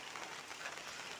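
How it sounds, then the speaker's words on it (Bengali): Rain falling steadily on a rainy-season day at an outdoor village cooking spot, a faint, even hiss of drops without any distinct individual splashes, no voices. "এখনো বৃষ্টি পড়তেছে, বৃষ্টি কিন্তু থামে নাই।"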